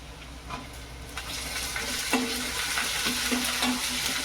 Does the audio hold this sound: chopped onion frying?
yes